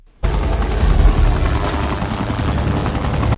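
Helicopter in flight in a film scene, searching for a missing bus, its steady rotor and engine roar loud and continuous throughout without pause.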